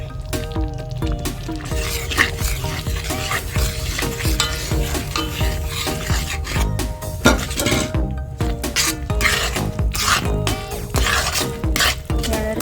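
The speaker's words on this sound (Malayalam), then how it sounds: "ഇതിലേക്ക് നമുക്ക് റവ ചേർത്ത് കൊടുക്കാം." Semolina stirred into a thickened mango mixture in a pan for rava mango barfi, with repeated scraping strokes and clinks of a spoon against metal over a soft frying sizzle.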